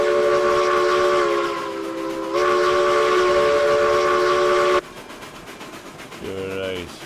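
Lima Loco steam locomotive in RailRoads Online sounding a loud, sustained steam whistle in two long blasts, then a shorter whistle toot near the end over a rumbling chug as it heads out of town.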